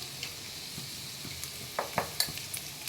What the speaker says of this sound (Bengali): এটাকে আমি ভালো করে নাড়াচাড়া করে নেব।